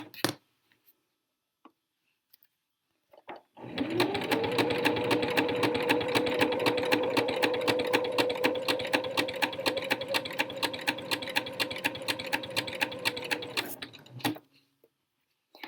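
A sewing machine stitches a seam in fabric for a boxy tee, running steadily and loudly for about ten seconds with a rapid regular needle clatter and motor whine, then stopping, with quiet gaps before and after.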